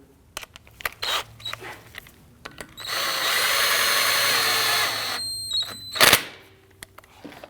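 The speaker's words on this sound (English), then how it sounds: "We're going to thread that in and we're going to snug that down gently." On a 2009-2017 Volvo XC60 front wheel hub, a greased axle bolt is run in with a power driver: a few sharp clicks, then a steady whirring spin of a couple of seconds, and a short final burst.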